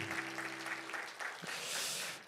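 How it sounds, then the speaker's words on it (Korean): A church congregation at a Friday worship service claps in applause, a soft steady patter that swells toward the end, following a short held tone at the start. "우리 하나님께 영광의 박수 올려드리겠습니다."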